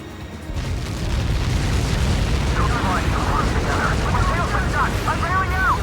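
Airburst explosion from the Helios weapon in the video game Ace Combat 7, a loud sustained rumbling boom that fills the whole clip with steady low roar, with radio-style chatter and tonal game effects layered over it.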